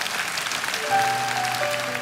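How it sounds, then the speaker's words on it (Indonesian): A church congregation applauds during a sermon, a steady wash of clapping joined about a second in by sustained keyboard or organ chords that carry on beneath it. "Kita beri tepuk tangan untuk Tuhan Yesus."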